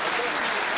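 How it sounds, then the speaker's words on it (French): Dense, loud burst of crowd applause at a 2002 boxing match, a brief continuous wash of many hands clapping together. "Oui, vous pouvez applaudir"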